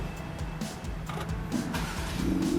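A tuned Jeep Gladiator pickup engine with a Stage 2 tune idling steadily, low rumble with a faint mechanical whine, fairly close and continuous, rising a little in level toward the end.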